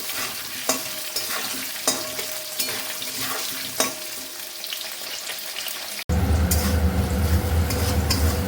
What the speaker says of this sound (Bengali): আর এদিকে এবার আলুগুলো দিয়ে দিলাম, আলুগুলো ভালো করে ভেজে নিলাম।